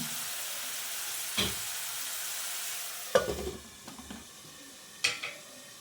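Oil sizzles steadily in a pan as amaranth leaves fry in tempering, with a few sharp spattering pops and clinks, no voices present.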